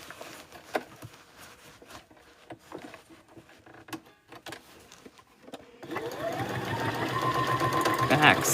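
Near the end a sewing machine starts up and back stitches a bag lining, a rising mechanical whir after a stretch of quiet handling noises and faint talk.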